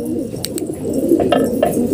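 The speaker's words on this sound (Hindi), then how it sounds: "दोस्तों अभी सारे कबूतर यहाँ पे हैं" Several pigeons coo softly and repeatedly nearby, their low burbling calls overlapping with a few brief chirps in a continuous flock murmur.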